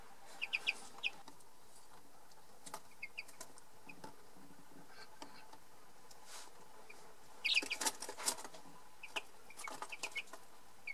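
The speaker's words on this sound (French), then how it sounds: "les petits poussins, ils sont en pleine forme" Little chicks chirp in soft, scattered high peeps against a quiet background, with a small burst of busier calls partway through.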